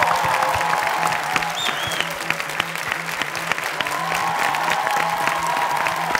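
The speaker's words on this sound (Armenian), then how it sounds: "ես դահլիճին կխնդրեմ բարձր ծափարանք մեր երաժիշտներին" A concert hall audience applauds the musicians at a gala performance of national song, dense steady clapping filling the space for several seconds, loud and close, with a faint musical tone lingering beneath.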